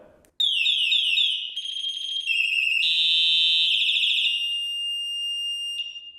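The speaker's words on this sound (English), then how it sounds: "if you quickly press this, that's the horn, the sound it's gonna go" A loud, piercing 120-decibel electronic bike horn from a combined speedometer and light unit blares continuously, shifting through several warbling and steady siren-like tones without pause.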